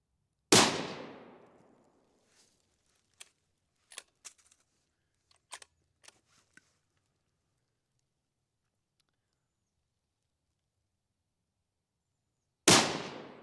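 Rifle shots ring out at a range from a Tikka T3X and a Remington PCR, a loud sharp crack at the start and another at the end, with faint small clicks and handling noises in between.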